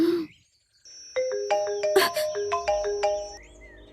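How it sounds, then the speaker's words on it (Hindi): A melodic electronic ringtone plays a quick, repeating chime pattern, clear and close, following a brief moment of speech. "किसका फोन आ रहा है?"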